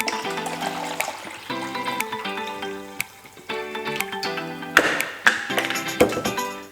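Room-temperature water poured from a tap or jug into a bowl of dissolved salt while making sauerkraut, a splashing, gurgling stream with a few clunks and knocks of the container, no talking.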